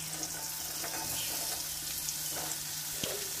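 Chopped pumpkin and mixed vegetables fry in hot oil in a kadai, a steady close sizzle and hiss that barely changes, with a soft clink near the end.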